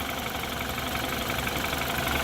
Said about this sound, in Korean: 엔진 소리 깨끗하고요